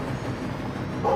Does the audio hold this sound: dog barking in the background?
yes